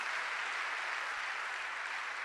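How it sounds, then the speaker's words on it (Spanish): A church congregation claps together in praise to the Lord, a dense, even wash of applause held for a couple of seconds with no voices over it. "Démosle palmas al Señor"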